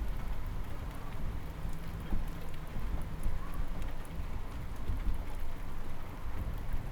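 Rain falling outdoors across a neighborhood during a thunderstorm, a continuous dense patter with a low rumbling undertone, steady and fairly loud the whole time with no voices.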